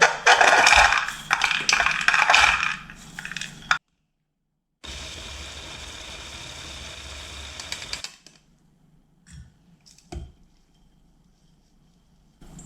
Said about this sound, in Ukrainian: Горіхи потрібно подрібнити. І подрібнює їх у блендері.